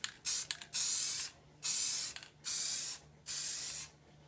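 An aerosol can sprays paint onto HO scale model railroad track in five short bursts of loud, close hiss separated by brief pauses, with a faint steady hum underneath.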